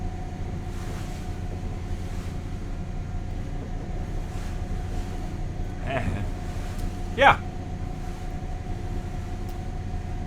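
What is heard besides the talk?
boat running on its starboard engine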